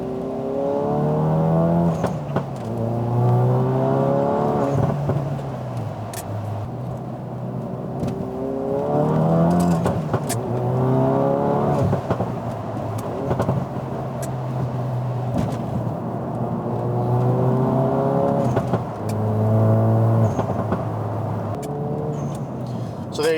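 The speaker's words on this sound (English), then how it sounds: "So let me get the camera set up and we'll go on a test drive." A Ford Focus RS fitted with an aftermarket short shifter accelerates on a road drive. Its engine climbs in pitch through each gear, then drops at every shift, in a repeating pattern of loud, close revving.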